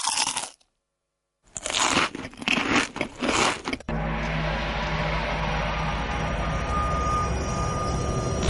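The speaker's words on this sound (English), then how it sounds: "What would the potato crisp be without the crunch that joins your mouth to your ears?" Close, loud crunches of a potato crisp being bitten and chewed come in a quick cluster of sharp, crackly bursts after a brief silence, followed by a steady droning background.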